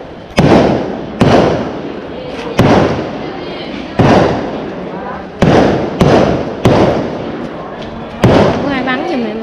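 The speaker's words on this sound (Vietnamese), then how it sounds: "À, nó bắn bao bông." Fireworks go off on Lunar New Year's Eve in a residential street, with about eight sharp, loud bangs at irregular intervals, each followed by crackling and echo, and people talk faintly between them.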